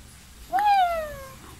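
A single cat meows once, a clear, fairly loud rising-then-falling cry about a second long over a quiet background.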